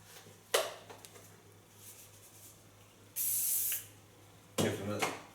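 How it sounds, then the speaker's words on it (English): A short burst of hairspray hisses onto hair set on rollers, a steady aerosol spray lasting under a second, framed by a few soft handling noises nearby. "Give them a light hairspray."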